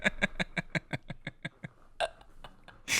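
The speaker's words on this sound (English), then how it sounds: "You just made me burp a lot." A rapid string of about ten short burp-like bursts in quick rhythm, then a couple of louder separate bursts toward the end, close and fairly loud, with no talking over them.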